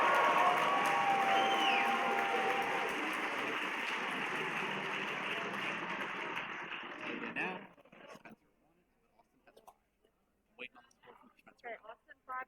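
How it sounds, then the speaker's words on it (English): A crowd at a women's lightweight longsword profight event cheers and applauds the fighters, a loud sustained roar that fades and cuts off, followed by quiet scattered sounds. "Please give a big cheer for our fighters if you were excited by that fight."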